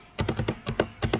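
Typing on a computer keyboard while entering switch commands, about nine crisp close-up key taps in quick uneven bursts, clicking sharply against a quiet background.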